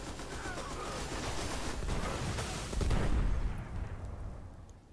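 Machine gun fire in a video game, a dense, rumbling stream of rapid shots that swells loud midway and then fades toward the end, with voices faintly beneath.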